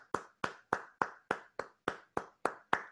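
One person claps the accents of a triplet rhythm alone, ten crisp, close, evenly spaced claps, each ringing off quickly before the next.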